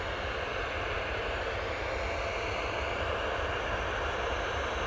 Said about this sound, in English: I know you've got Ryanair coming in